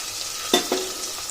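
Tomato pieces frying in a pan, a soft steady sizzle with two quick scrapes of stirring, close and brief.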